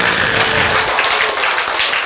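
An audience claps during a healing lecture, a dense, steady wash of applause lasting about two seconds, loud and close with no pause.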